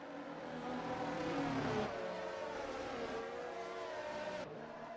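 Formula 1 cars racing on the dry Belgian Grand Prix circuit in the F1 2023 video game, a steady, loud engine whine that shifts pitch as the cars accelerate and change gear, with no talking.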